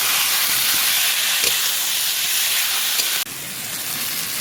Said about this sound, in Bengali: একসঙ্গে দিয়ে ভেজে নিচ্ছি টমেটো পেস্ট করে রেখেছি